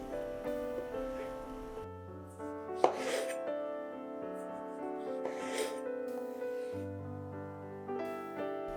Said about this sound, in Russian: Один помидор нарезаю тонкими ломтиками.